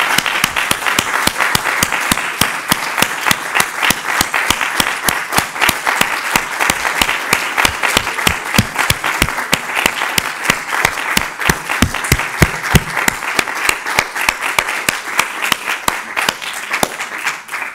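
Warm, sustained applause from a conference audience at a round-table on translating T. S. Eliot's The Waste Land, dense rhythmic clapping holding loud and steady for a long stretch.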